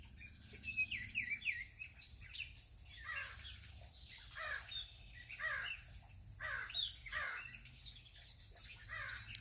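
Several birds call outdoors in a calm natural setting, with a series of short chirping and cawing notes scattered across the clip. They sound moderately distant over a low steady background rumble.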